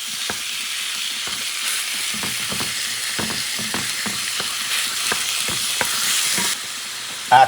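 Ground meat for a shepherd's pie sizzles steadily in a pan while a utensil breaks it up with repeated sharp scraping taps and knocks, close and without talk.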